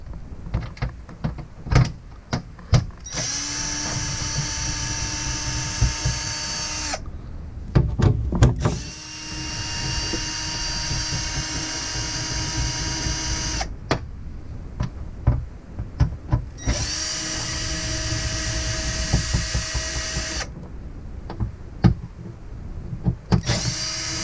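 A power tool whirs in repeated long bursts while removing bolts from a Jeep TJ transfer case, each steady high whine lasting a few seconds, separated by clicks and clanks of handling in between.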